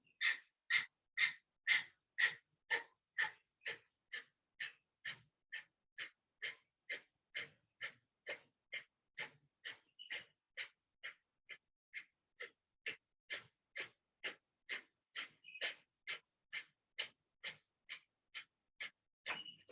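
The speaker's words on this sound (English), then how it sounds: "we're gonna do 2 minutes of breath of fire here." Breath of fire, rapid rhythmic kundalini yoga breathing, a long even series of about two sharp nasal exhales per second, close and clear with no talk.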